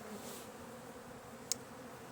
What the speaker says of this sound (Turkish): Arı yağmaya uğruyor şu anda.